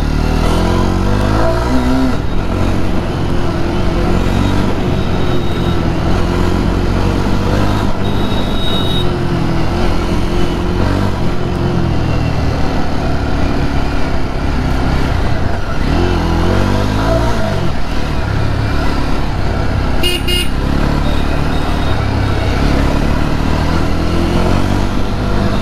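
A Jawa 42 2.1 motorcycle pulls away from first gear, its engine rising in pitch through several climbing sweeps amid strong wind rush and road noise, loud and close throughout.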